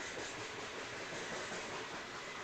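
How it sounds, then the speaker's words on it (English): A freight train running from Wisconsin to North Platte rolls past with a steady, broad rumble and hiss, the noise staying loud and even the whole time, and no voices are heard. "Wisconsin to North Platte train."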